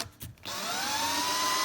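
A power drill spins up after a few short knocks and then whines steadily, driving screws through pre-drilled holes in a skate ledge profile; close and fairly quiet, with no voices.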